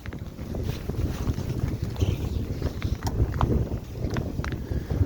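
Strong headwind buffets the microphone in low, gusty rumbles throughout on the Zolota Lypa river, with faint knocking and splashing sounds mixed in.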